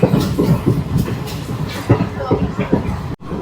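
A train rolls slowly across the 2.07 km sea bridge near Mandapam, giving a steady rattling, clattering rumble from inside a carriage, with a person talking over it throughout.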